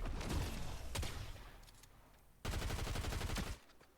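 Shotgun blasts in Fortnite: loud, sharp reports with short decaying tails, one near the start and another around one second in, then a burst of rapid gunfire late in the clip.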